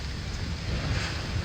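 Steady wind blows outdoors at a school demolition site, a continuous broadband rush with low rumble and no clear gusts, loud and close to the microphone, with no talking.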